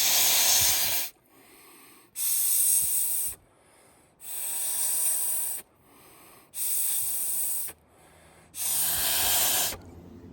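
A McDonald's straw pushes mixed JB Weld into the wet leak spots of a 1940 Dodge VFA32 radiator: five close, loud, breathy blowing bursts, each about a second long, separated by short pauses.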